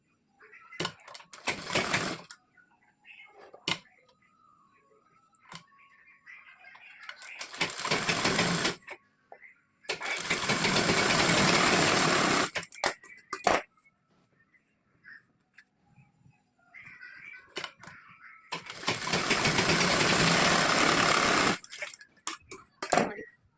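A sewing machine stitches tucks into a blouse, running in three loud sustained bursts of rapid mechanical whirring, with short pauses and soft handling noises between runs.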